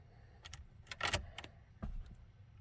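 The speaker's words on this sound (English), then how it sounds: "as I turn on the key" Ignition key turned in a car, with keys jangling on the ring in a few quick bursts and a short mechanical click partway through, fairly close and without talk.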